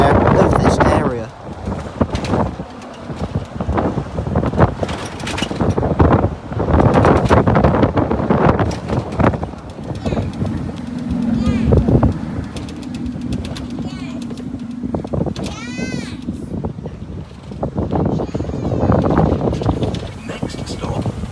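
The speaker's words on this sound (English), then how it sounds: "let's enjoy the lovely Scania engine along with the lovely fresh air of this area" An open top bus with a Scania engine runs along a short route in Poole and Bournemouth. Steady engine drone sits under heavy, gusting wind noise across the microphone.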